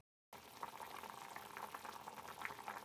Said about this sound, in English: reduce the sauce of braised pork